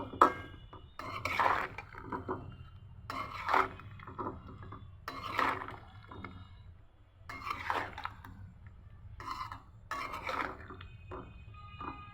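Raw jackfruit being stirred in a cooking pot before boiling, heard as intermittent close wooden-spoon scrapes and soft knocks against the pot, spaced out with quiet gaps over a low steady background hum.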